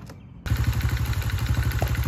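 A Honda CRF70F small motorcycle engine starting abruptly and settling into a steady, close, loud idle with a fast, even thumping pulse and mechanical clatter.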